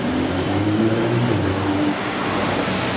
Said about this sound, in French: il y a que des Porsche de zinzin